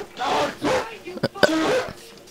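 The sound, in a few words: dog barking in video game Saints Row The Third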